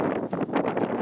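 Wind gusts across an outdoor rifle range, buffeting the microphone with a steady, pulsing rumble and hiss that swells and fades in short waves.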